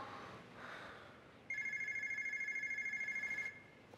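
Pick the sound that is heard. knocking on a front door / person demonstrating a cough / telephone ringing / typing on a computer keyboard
telephone ringing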